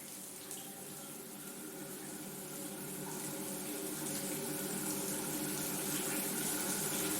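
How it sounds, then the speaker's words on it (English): Shower water running from the tap, a continuous broad hiss of flowing water that grows slightly louder partway through and then stays steady, close by with nothing else over it. "I wait for the water to heat up as I stand on the other side of the curtain."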